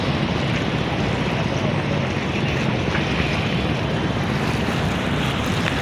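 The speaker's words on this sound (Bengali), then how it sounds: "ওই সাইডে অনেক নৌকা যেতেছে, ওই সাইডে মারাত্মক ঢেউ" A small boat crosses the choppy Buriganga river near Sadarghat, and the constant loud wash of waves and wind against the hull fills the whole stretch without pause.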